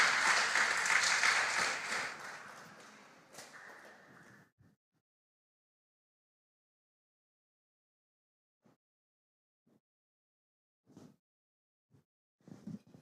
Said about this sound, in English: Please clap for the 2 gentlemen.